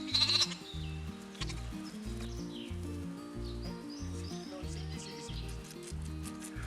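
Several lambs bleat repeatedly, their short high cries overlapping, while a louder rhythmic thumping plays in the background.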